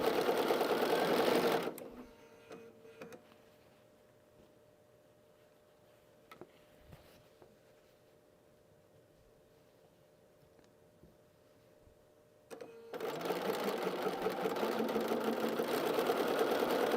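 Sewing machine stitching a patriotic country-style quilt, whirring loudly in two steady runs at the start and end with a quiet gap of faint room noise between.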